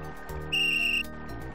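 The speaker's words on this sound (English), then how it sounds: "It's a magic whistle." A magic whistle is blown in the point-and-click game Simon the Sorcerer, one steady high-pitched tone of about half a second over soft game music.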